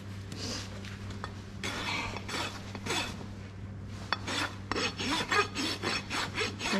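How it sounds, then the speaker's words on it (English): A coarse rasp files a horse's hoof during a barefoot trim, giving loud, continuous scraping strokes in a steady back-and-forth rhythm, close up with no talking. "Turn my rasp around so I can pull up."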